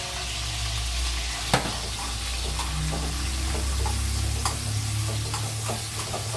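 Minced pork stir-frying in a pan for a bitter melon, egg and pork dish, giving a steady close sizzle with occasional sharp clicks of a utensil against the pan.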